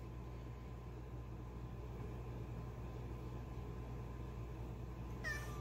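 A single short meow from a cat at a locked door comes right at the end, over a steady low indoor hum.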